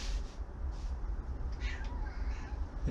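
A cat meows a couple of times, faint against steady background noise.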